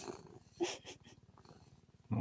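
A cat purring loudly up close, a fast rhythmic rumbling pulse running through the whole moment, with brief bursts of human talking over it.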